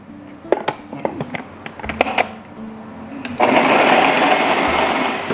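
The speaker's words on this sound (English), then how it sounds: "I'm gonna go ahead and put them in the food processor. And we're gonna run those real fast." A food processor chopping Tabasco peppers: a few clattering knocks and taps as it is loaded, then a loud steady whirring buzz as it runs fast.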